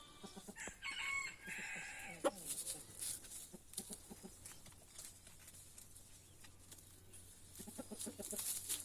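Free-range hens clucking and scratching around feed, with scattered clucks, a rooster-like call and occasional scuffling thumps, close and moderately loud with quieter stretches between.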